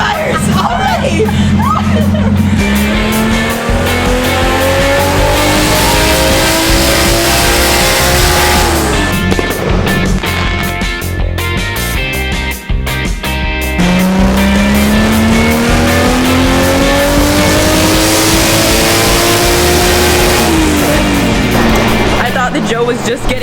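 A 1JZ-swapped Nissan 350Z screams through loud, sustained revving on a dyno, with two long climbing pulls that rise in pitch before easing off. Shouts and background voices mix in.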